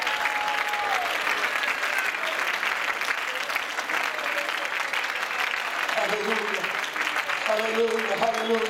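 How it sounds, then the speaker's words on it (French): Church congregation clapping during a bilingual Holy Spirit service, steady dense applause throughout with voices and music-like tones mixed in beneath, loud and close. "Applaudissez vers l'Éternel."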